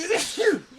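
A single sneeze bursts out among several people casually chatting during a film review and spoiler discussion of How to Train Your Dragon, short, close and fairly loud amid the surrounding talk.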